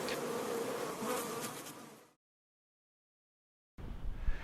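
Honey bees buzz at a hive, a dense, loud swarm hum for about two seconds before silence, then a rougher burst of buzzing returns close by.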